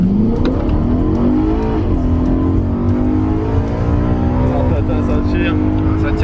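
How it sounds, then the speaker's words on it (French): BMW M3 or Fiat 500 Abarth accelerating hard on a closed road, loud engine revs climbing through gears with rising pitch, close and continuous, with voices over it. "encore une petite accélération"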